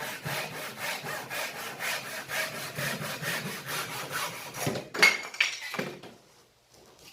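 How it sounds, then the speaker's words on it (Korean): Hand saw cutting slowly through wood during a square box woodworking lesson, steady rhythmic rasping strokes up close that stop near the end, followed by a few brief knocks and handling sounds. "그렇게 해서 톱질을 천천히 하는 겁니다."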